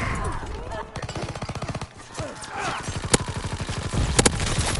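An automatic weapon fires in Call of Duty WWII in rapid sustained bursts, with a short break between them, loud and close, while a player talks over the shooting.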